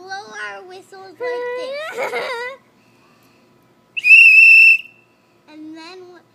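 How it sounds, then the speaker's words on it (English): Children's voices chatter briefly, then a shrill toy whistle blows one long, loud note, followed by more young voices. "we blow our whistles like"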